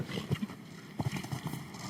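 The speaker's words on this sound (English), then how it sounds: "riding the 11-year-old Dutch-bred gelding Titorio S" An 11-year-old Dutch-bred gelding moves on a show jumping course at a Nations Cup event in La Baule, France, its hooves thudding in a quick, uneven rhythm at close range.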